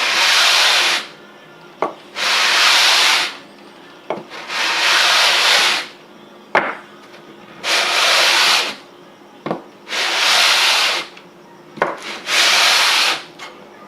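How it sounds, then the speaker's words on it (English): Sandpaper rubs along the wooden stock of a Winchester 1895 Russian musket in steady, repeated strokes, about six long rasping passes with brief quiet gaps, close and clear, with no voices. "Now it feels like the entire length is contacting the sandpaper."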